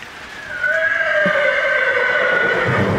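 A horse gives a loud, drawn-out whinny that begins after a brief quiet moment and carries on to the end, close by and on its own.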